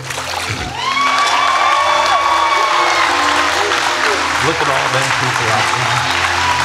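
A congregation applauds and cheers right after a church baptism, loud and continuous, with whoops and someone speaking over the crowd near the start.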